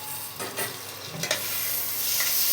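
Fried prawns are stirred into a ridge gourd curry in a pan, giving a steady sizzle with scraping stir strokes at a close, moderate level and no talking.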